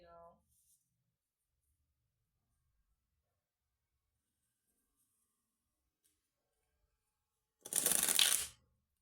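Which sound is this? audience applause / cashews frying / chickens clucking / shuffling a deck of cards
shuffling a deck of cards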